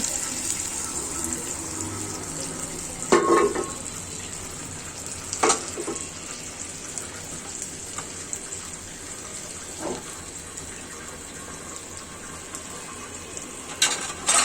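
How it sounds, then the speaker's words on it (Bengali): Water from rinsing a pot poured into a pan of frying chickpeas and vegetables, a sharp splash and hiss at first, then a steady sizzle with occasional clatters of stirring. "অল্প করে পানি দিয়ে দিচ্ছি হাঁড়িটা ধুয়ে"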